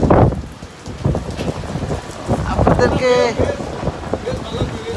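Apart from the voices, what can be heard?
heavy rain and wind in Dhaka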